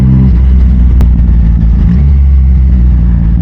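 A 2023 Yamaha XSR900 fitted with a Yoshimura AT2 full exhaust drones loudly and up close with a deep, steady engine note while riding, without much revving. A brief sharp tick cuts through near one second.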